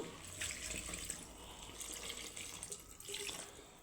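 Water poured into a pot of sago khichdi as it cooks, heard as a soft, steady splashing stream that swells and fades a few times, faint and alone with no voices.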